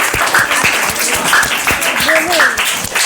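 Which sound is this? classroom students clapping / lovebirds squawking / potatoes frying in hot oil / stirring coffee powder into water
classroom students clapping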